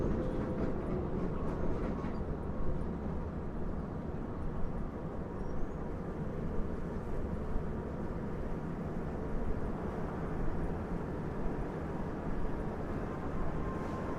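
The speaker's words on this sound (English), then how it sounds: "At least the subway is still running." A steady low rumble of a New York City subway train running continuously, loud and close, with a constant mechanical hum throughout and no voices.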